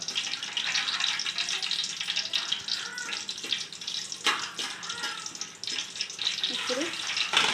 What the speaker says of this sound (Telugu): ఆయిల్ కొంచెం వేడెక్కాక మసాలాలు వేసారు